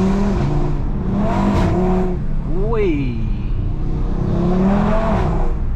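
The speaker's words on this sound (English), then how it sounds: "The way the turbos spool up versus the pre-generation RS3 that had the 5V engine" A 515bhp Audi RS3 accelerates hard, its turbos spooling with rising whines and shifting engine tones that swell and drop through gear changes, loud and close, while a voice exclaims briefly.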